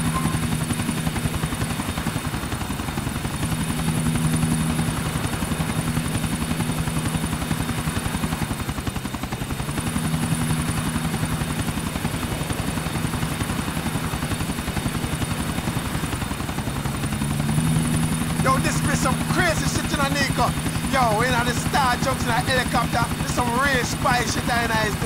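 Helicopter flying in Grand Theft Auto IV, a steady continuous rotor drone heard throughout, with game dialogue voices talking over it and extra chattering voices toward the end.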